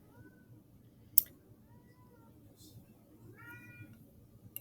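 A house cat meows several times, short tonal cries scattered across a few seconds, near and moderately quiet, with a sharp click partway through.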